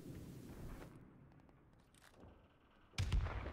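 A single gunshot in Modern Warfare Remastered, a sharp loud crack near the end after a stretch of quiet low rumbling ambience, with no talking.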